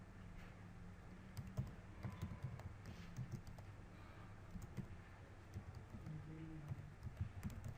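Quiet, irregular clicking of someone typing a heading on a computer keyboard, soft taps coming in short bursts.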